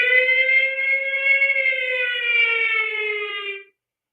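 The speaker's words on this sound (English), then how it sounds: "we got the siren in here." A single steady siren tone holds for a few seconds, loud and close with a slightly wavering pitch that sags toward the end, then cuts off abruptly into silence.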